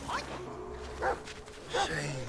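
A dog barks in the video game Black Myth Wukong, three short yipping barks spaced apart at moderate distance, with speech-like sounds around them.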